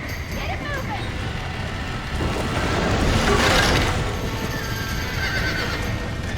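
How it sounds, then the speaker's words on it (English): A horse whinnies and gallops in the Red Dead Redemption video game, hooves pounding over a loud rumbling storm backdrop that swells midway before easing. "Give that horse a smack! Get it moving!"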